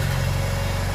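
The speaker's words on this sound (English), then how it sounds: "The generator has started, indicating that it's running." A backup generator engine runs close by with a steady low hum and a constant tonal whine. Its idle is even and unbroken for under a second.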